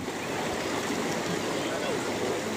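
Water from a river stream rushing and burbling steadily over stones, a continuous close wash of sound.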